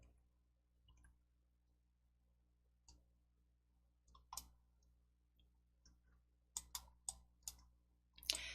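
A computer mouse clicks sharply and close in an otherwise near-silent room, scattered single clicks at first and then a quick cluster of several toward the end.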